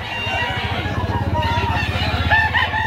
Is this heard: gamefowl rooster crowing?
yes